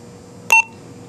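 Short electronic tone beeps from a Motorola HT1250LS+ 403-470 MHz handheld two-way radio: a brief burst of a couple of clean, pitched chirps, close and fairly loud against a quiet room, with no speech.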